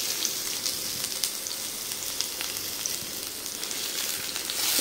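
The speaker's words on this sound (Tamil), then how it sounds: "நல்லா அதை வதக்கி விட்டுலாம்" Chopped big onions sautéing in oil for a mutton gravy, giving a steady, dense sizzle that fills the whole clip, with faint stirring scrapes now and then and no voices.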